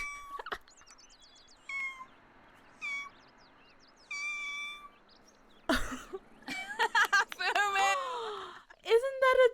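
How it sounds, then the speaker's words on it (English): A kitten meows repeatedly, short high cries at first and then a rapid string of louder meows near the end, heard close and mixed with people talking and reacting. "He sang for us. How can we not adopt this little kitten?"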